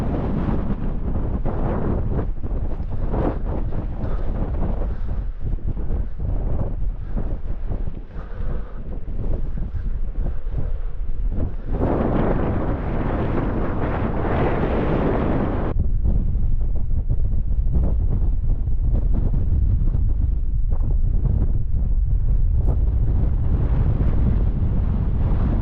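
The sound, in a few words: strong wind on mountain in Lake District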